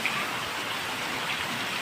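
Steady rainfall hisses across the whole stretch, an even wash of drops without any breaks or voices.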